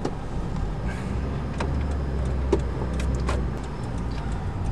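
A taxi idles and creeps through heavy Bangkok traffic, a low steady engine rumble inside the cabin with occasional faint clicks and ticks, and no one speaking.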